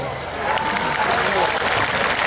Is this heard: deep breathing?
no